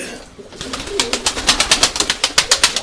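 Urfa Arab pigeons, with a rapid series of about a dozen sharp rhythmic flaps or clicks, close and loud, after a brief murmur.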